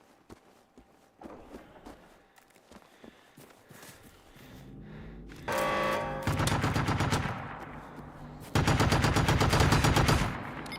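Rapid bursts of automatic turret gunfire in the video game Generation Zero, starting as scattered distant shots and building into loud, sustained volleys amid footsteps and movement.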